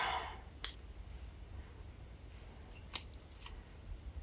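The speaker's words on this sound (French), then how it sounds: "je vais le découper" Scissors cut out a paper card shape for a circular Easter cascade card. A few crisp, quiet snips are spread over a hushed background, close and alone without talk.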